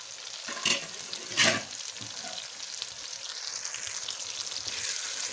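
Tomatoes and capsicum cooking on medium heat for shimla mirch, a steady close sizzle broken by two sharp stirring scrapes early on.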